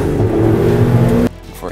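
Ferrari Challenge race car engine droning loud and close with a steady revving roar, cutting off abruptly near the end into quieter background.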